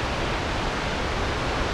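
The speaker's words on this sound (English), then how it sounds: "the Brandywine Waterfalls." Rushing water at Brandywine Falls pours in a steady, loud, broadband roar that fills the whole stretch without a break, close by and with no voices over it.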